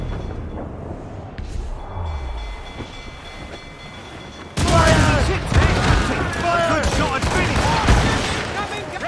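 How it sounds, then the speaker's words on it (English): Cannons fire a volley from a ship in the game Assassin's Creed Rogue, a sudden loud burst of booming blasts and crackling debris that follows a quieter stretch with faint voices. "They're firing a volley!"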